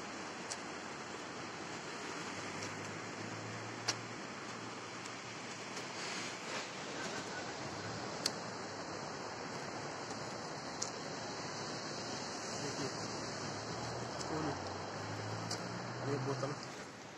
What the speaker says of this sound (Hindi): पत्थर वाले पहाड़ों पर पानी कैसे गिर रहा है नीचे।